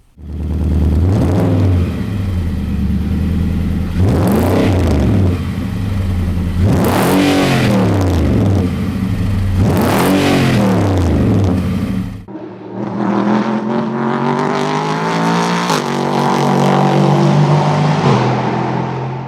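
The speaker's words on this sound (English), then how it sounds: "I know this motor is typically touted as one of the better sounding V8s" A V8 race-car engine fitted in a production truck revs hard in three sharp, rising blips, then settles into a steady, loud, high drone with no talking.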